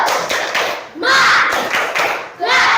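A fifth-grade class in an Indonesian classroom does a rhythmic spirit clap, loud patterned bursts of hand claps and thumps in groups, with children's voices chanting along in time.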